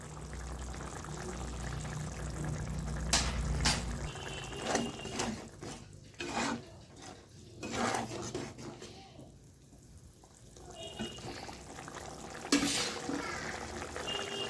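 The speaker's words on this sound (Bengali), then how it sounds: "গ্রেভিটা সুন্দর করে ফুটছে" Pomfret curry gravy simmers in a pan, giving soft, quiet bubbling and intermittent popping bursts, close up with gentle background hiss and no voices.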